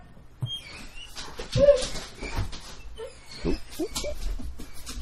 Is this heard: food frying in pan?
no